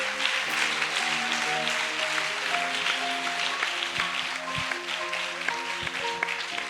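A church congregation applauds at a lively service, with steady clapping at moderate volume under sustained musical tones and occasional voices.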